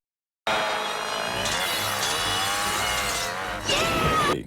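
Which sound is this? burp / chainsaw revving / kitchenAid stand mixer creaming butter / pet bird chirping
chainsaw revving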